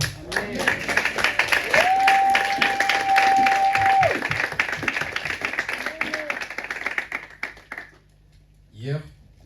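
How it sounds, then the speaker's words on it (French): A church congregation at a Sunday service claps to acclaim the Lord, a dense burst of many hands applauding together alongside voices and a sustained tone, fading out toward the end. "Est-ce qu'on peut acclamer le Seigneur pour cette parole?"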